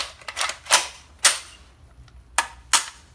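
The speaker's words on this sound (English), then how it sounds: "We'll function check" Dry mechanical trigger and action clicks come from a reassembled PTR HK93-style rifle during a function check. About six sharp, close metallic snaps sound at irregular intervals in a quiet room.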